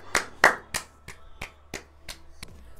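A small group claps for Andi during a livestream, making about eight separate, evenly spaced hand claps. Each one is sharp and fairly close, with clear gaps between them and no voices over them.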